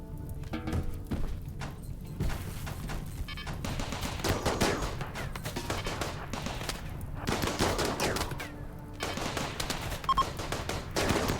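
Gunfire and shelling in the RimWorld video game, rapid bursts of automatic fire and repeated sharp shots with dull thuds, dense and continuous throughout, with no talk.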